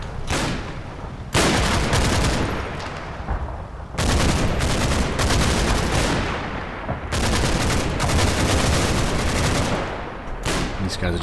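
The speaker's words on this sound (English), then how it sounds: "These guys are just in the distance listening to firefight." Firefight in the video game Combat Mission: Battle for Normandy, with dense, loud rolling gunfire, booms and rattling bursts coming in long waves separated by brief lulls, and some speech mixed in.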